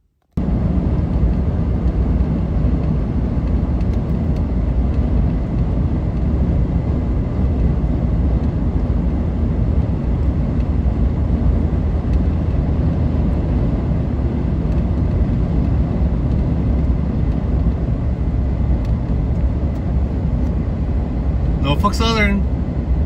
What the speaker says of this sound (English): This train is the Union Pacific MEW CC02, a daily manifest. It's got a Norfolk Southern leader, number 9777.